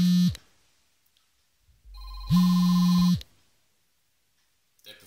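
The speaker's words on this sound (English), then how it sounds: "getting phone calls whilst I'm doing a video" A telephone ringing indoors, two distinct electronic rings with a short burst and a longer second ring separated by silence, loud and clear, followed by a faint click or sound at the end.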